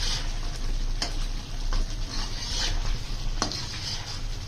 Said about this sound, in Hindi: इस टाइम पे आपने चम्मच ध्यान से चलाना है कि ये टूटे ना कबाब